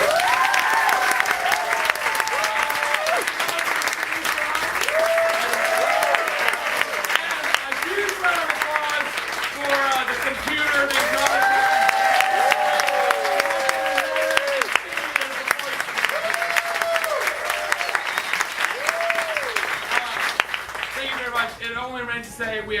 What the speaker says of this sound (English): Let's give one more big round of applause for our performers.